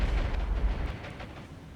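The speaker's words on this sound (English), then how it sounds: "We got some secondary explosions happening on the first light cruiser" Burning warships in a naval video game give off a deep, rumbling explosion that rolls into crackling bursts and fades within about two seconds.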